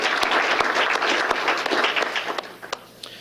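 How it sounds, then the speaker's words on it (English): An audience at a mayor's employee recognition awards ceremony applauds honorees, a full round of many hands clapping that thins out toward the end into scattered last claps. "let's have a round of applause for those"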